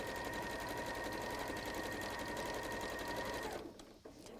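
A sewing machine stitches straight quilt seams, running in a fast, even whir close by for several seconds before it stops abruptly.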